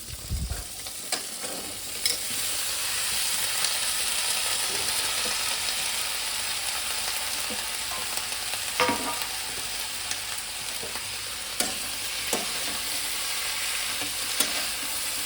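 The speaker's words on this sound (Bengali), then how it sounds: "আলুটা দিয়ে একটু নেড়ে তারপরে বেগুন আর পেঁয়াজ কালি আর গোটা চারেক কাঁচা লঙ্কা আমি দিয়ে দেবো এখানে" Small potatoes stirred and frying in oil in a pan, a steady loud sizzle lasting throughout, with occasional scraping clicks of the spatula against the pan and no speech.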